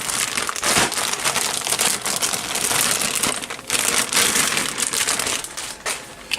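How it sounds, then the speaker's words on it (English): Continuous crackly black plastic bag crinkling while unboxing a Tamiya RC car kit, loud and close, with bursts of crunching and rustling throughout and no voices. "And another black plastic bag."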